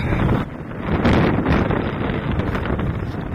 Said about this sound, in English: You have to excuse the wind